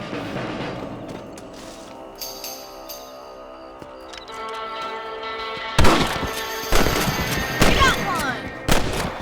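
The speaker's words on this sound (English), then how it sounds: "Better at shooting rabbits than outlaws, I see." Gunfire at rabbits in the video game Red Dead Redemption, a run of several sharp shots in the second half over game music and ambience, with character voices talking.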